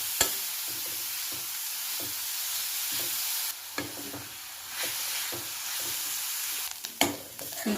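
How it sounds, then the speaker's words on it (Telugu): Carrots fry in ghee in a pan, a loud steady sizzling hiss with occasional sharp clacks and scrapes as they are stirred, close up, no talking. "వీటిని అదే నెయ్యిలో క్యారెట్ వేసుకుని వేయించుకోవాలి."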